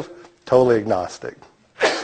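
A single sharp sneeze bursts out in a lecture hall at an energy symposium, following a stretch of a man's speech and a short pause.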